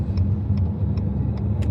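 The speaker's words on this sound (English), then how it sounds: "Obviously it's got the iconic 2-litre YB engine." A Ford Escort RS Cosworth's 2-litre YB engine rumbles steadily at close range, a low, even drone with faint regular ticking on top.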